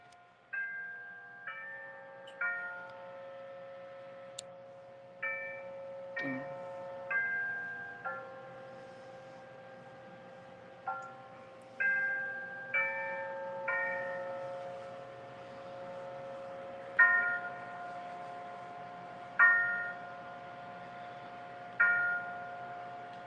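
Several clocks chime at once in a room, clear bell-like tones struck in overlapping phrases with lingering ringing, moderately loud and without talk.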